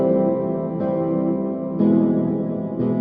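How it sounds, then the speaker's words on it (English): Frozen reverb effect from the QuaDelay app sustains a dense, harmonically rich effected tone, swelling anew about once a second with sharp onsets, loud and without talk. "you can hear what's happening here with this frozen reverb."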